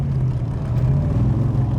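A 1965 Shelby Cobra Backdraft with a five-speed Tremec transmission rumbles through its exhaust pipes in a low, steady drone at moderate volume from inside the moving car.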